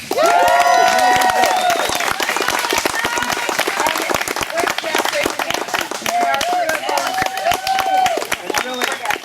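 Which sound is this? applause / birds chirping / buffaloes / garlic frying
applause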